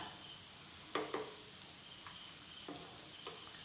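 A snack fries in oil in a pan over a medium flame, with a soft, continuous sizzle and a few faint clinks of utensils against the pan.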